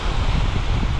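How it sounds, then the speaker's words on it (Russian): Strong wind buffets the microphone during a fishing outing, a loud, continuous broadband roar with gusty rumble filling the whole clip, no talking. "Еще бы ветер успокоился, было бы вообще отлично."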